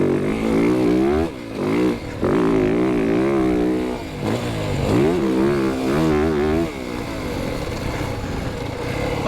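A 2025 Yamaha YZ450FX dirt bike tears along off-road in fifth gear, its loud, close engine buzzing and rising and falling with the throttle over several seconds.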